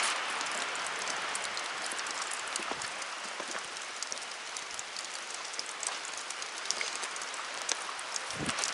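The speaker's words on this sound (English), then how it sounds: "Oh, rain." Rain falls outdoors in a steady, close, hissing patter, broken by a few soft thumps of heavier drops.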